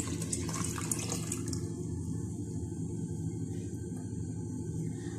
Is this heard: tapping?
no